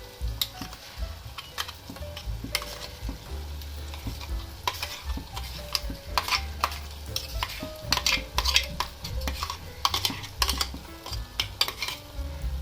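Ground paste of coriander, garlic, onion and coconut goes into a clay pot of drumstick curry and is stirred, giving repeated sharp scraping strokes over a continuous close sizzle.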